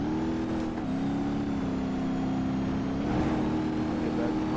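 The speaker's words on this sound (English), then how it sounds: "Once you get that Cummins revved up, it'll smoke those tires, no problem." A Cummins diesel truck engine in BeamNG.drive holds a steady, droning rev with a low rumble, rising slightly near the end, loud and continuous.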